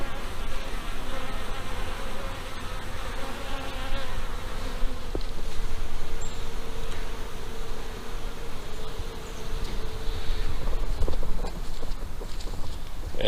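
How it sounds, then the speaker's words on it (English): Bees fly around beehives in a bee yard, a dense, continuous buzzing drone filling the air up close, with faint footsteps moving through it. "the bees are just flying like crazy"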